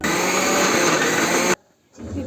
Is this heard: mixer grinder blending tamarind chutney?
yes